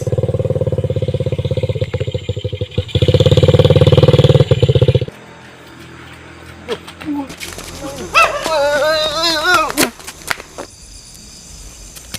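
A motorcycle engine runs with a loud, rapid idling putter for about five seconds, swelling briefly, then cuts out; afterward people talk and other sounds follow at a lower level.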